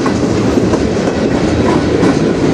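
A short CN freight train pulled by four locomotives rolls past in Sarnia, Ontario, its cars making a loud, steady rumble and clatter that fills the whole stretch without pause and with no voices.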